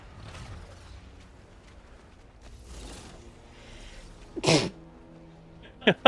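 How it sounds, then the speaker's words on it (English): Two sharp sneezes burst out near the end, the second quick and abrupt, after a stretch of quiet rustling and faint murmuring. "So the books are making me sneeze."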